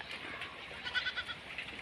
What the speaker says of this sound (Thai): แพะ